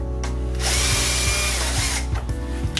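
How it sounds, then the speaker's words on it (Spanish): A power drill bores through the loading door of a Bosch Siemens washing machine, a loud close whine that spins up, holds steady and briefly dips as the bit bites. "vamos a poner pues una broca un poquito más grande, de una broca de 6"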